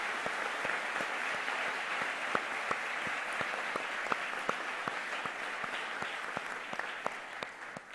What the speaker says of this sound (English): Please join me in giving these individuals a warm round of applause in appreciation for their contributions